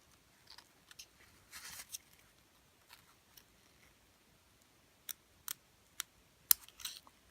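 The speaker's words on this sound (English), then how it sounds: "The next step is to trim around the edge here" Scissors trimming the fabric edge of a zipper pouch, heard as scattered quiet snips and crisp cuts, a few clustered early and several sharper isolated clicks later, close and alone.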